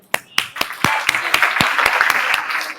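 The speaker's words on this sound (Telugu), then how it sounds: "దీనికి నేను క్లాప్స్ కొడతాను" Sharp handclaps in an irregular rhythm, then a swell of many hands clapping together as a room of people joins in applause, with faint talk underneath.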